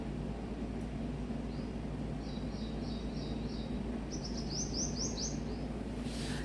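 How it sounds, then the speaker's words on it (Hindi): Small birds chirp faintly in the early morning, a few quick runs of high tweets over a steady low background hum, distant and quiet with no talking. "कभी सुनो आप चिड़ियाएँ कितनी बातें करती हैं।"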